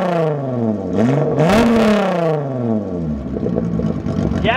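A 12-valve VR6 car engine revs up and down close by, its loud exhaust note rising in pitch, falling back, then surging again before settling to a rumble.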